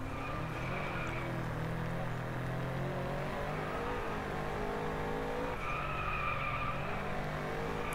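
A BMW 5 Series sedan in the DRIVECLUB racing game sliding sideways through a corner, with a loud continuous engine drone and sustained tire squeal rising and falling across the slide.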